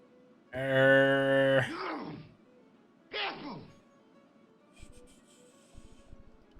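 A goat in the video game Broken Sword lets out a loud, drawn-out bleat, followed by a shorter second cry and then a few faint clicks in a quiet scene.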